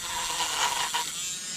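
A mini drill spins a soft bristle brush, giving a steady high electric whine and buzz, with brief swells as the brush presses against a surface.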